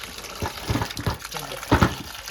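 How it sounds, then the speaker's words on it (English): Water runs through a filter and spills both ways from a scooped bucket, a steady faint rushing wash with soft splashy surges throughout. "you can see all the water just running both ways"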